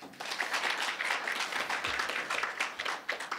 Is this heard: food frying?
no